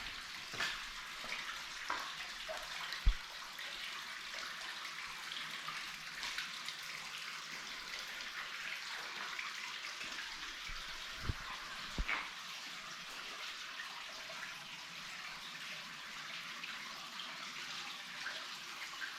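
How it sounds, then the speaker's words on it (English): Spring water pouring naturally out of old stone masonry at a grotto in Eureka Springs, Arkansas, a steady soft hiss of running water with a few faint taps and drips, no voices. "this is where the water is naturally flowing out of"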